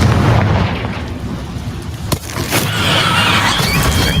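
A Confringo blasting spell explodes in Hogwarts Legacy, a sharp sudden blast cracking through loud game ambience, then a short rumbling tail and a shrill high tone afterward, close and dominant.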